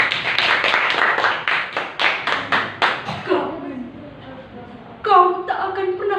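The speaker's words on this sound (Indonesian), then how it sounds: "Tepuk tangan untuk Zara." A small classroom group claps for a student about to read a poem, giving a few seconds of quick, close rhythmic hand claps. The claps taper off and are followed by a brief tonal voice or sound near the end.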